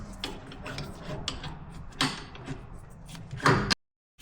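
Bolts being tightened on a bracket of a Kubota L3560 tractor, heard as a steady run of close mechanical ratcheting and metallic rubbing with a few louder clanks near the end before it cuts off.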